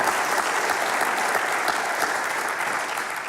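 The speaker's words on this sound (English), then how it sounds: "How about a nice round of applause for this" Loud, steady applause from a live audience at a monthly show in a brewery venue, dense clapping sustained for the full stretch and fading slightly at the end.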